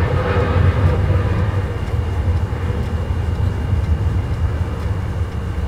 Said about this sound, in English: which is why you keep hearing the planes taking off